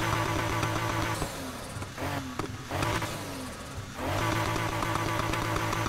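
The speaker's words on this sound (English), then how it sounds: "I'm pretty sure that's the E46 engine" BMW E46 inline-six engine in the racing game Need for Speed Heat, loud steady revving with a brief drop and rise in pitch midway before settling back into a sustained high-rev drone.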